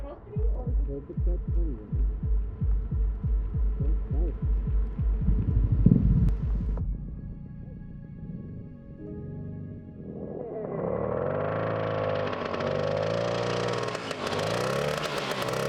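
An old 1975 Suzuki TC-185 Ranger motorcycle engine with an exhaust leak idles with a rough, rhythmic chuffing putter, then the engine fades lower as voices talk over it.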